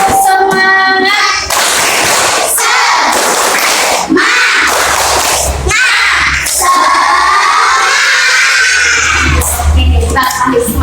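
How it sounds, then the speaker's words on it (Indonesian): A group of schoolchildren claps a 'tepuk semangat' spirit chant in a classroom lesson, loud rhythmic hand claps and shouted voices filling the whole stretch with little pause. "Coba kita cek semangatnya, tepuk semangat."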